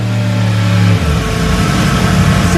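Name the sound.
Yamaha R1M motorcycle exhaust revving on a dyno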